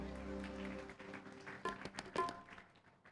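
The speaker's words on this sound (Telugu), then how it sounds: "ఒక్కసారి దేవులపల్లి కృష్ణశాస్త్రి గారికి చప్పట్లు కొడదాం." An audience at the India Praja Bandhu Party's 8th anniversary celebration gives scattered applause for Devulapalli Krishnasastri; after a soft sustained tone, faint, sparse claps begin and build briefly.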